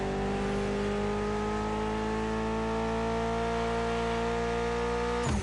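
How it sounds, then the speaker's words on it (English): A Mitsubishi inline four-cylinder car engine in the video game The Crew Motorfest drones at a steady high rev, a loud continuous tone that holds nearly constant before cutting off at the end. "Mitsubishi gave us a nice inline four-cylinder with already 280 horsepower."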